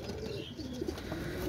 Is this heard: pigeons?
yes